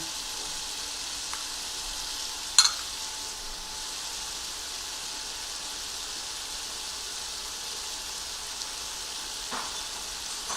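Steak seasoned with salt, pepper and garlic-infused olive oil searing in a pan, a faint steady sizzle with a couple of brief clinks, no talking.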